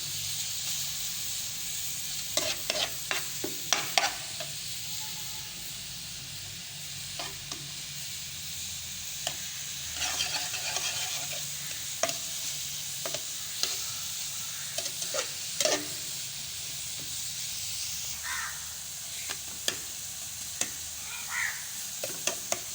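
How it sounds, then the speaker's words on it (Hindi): Spices are stirred into a radish paratha filling in a pan, with repeated scraping and tapping strokes at an uneven pace over a soft sizzling hiss, close by with no talking. "इसमें हम अब सारे मसाले ऐड कर देंगे और अच्छी तरह मिक्स कर लेंगे।"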